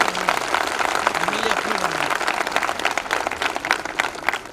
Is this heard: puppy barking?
no